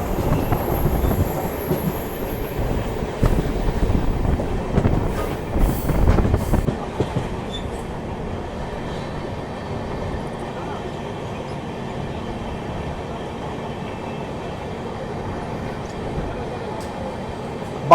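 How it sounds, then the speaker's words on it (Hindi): Heard from on board, the Hadapsar–Rewa Superfast Express leaves the Daund chord line in India and gathers speed. A continuous rumble with clattering wheel noise is louder at first, then settles into a steadier, softer running roar. "दौंड कॉर्ड लाइन से निकलते गाड़ी ने जबरदस्त पिकअप ले लिया है।"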